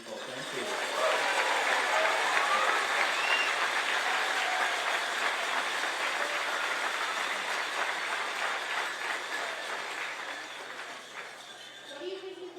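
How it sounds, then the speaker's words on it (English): Sustained applause from an indoor audience honoring county staff at a community Q&A celebration, dense clapping rising quickly and holding steady for about ten seconds before thinning slightly toward the end. "So I want everybody to applaud for the county people."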